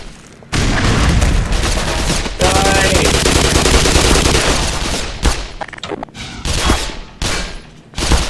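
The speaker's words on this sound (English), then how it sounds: "Throw a grenade." Gunfire and an explosion in Half-Life: Black Mesa: a loud, sustained burst of rapid shots with a heavy boom, then choppier bursts trailing off into scattered single shots, close and very loud.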